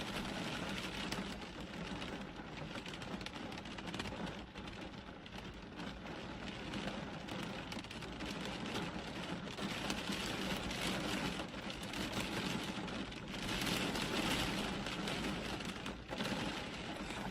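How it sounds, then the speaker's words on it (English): Steady rain falls outside, a dense, even hiss that runs unbroken throughout and swells slightly near the end, with no voices. "let's maybe listen to the rain and see if it's telling us anything"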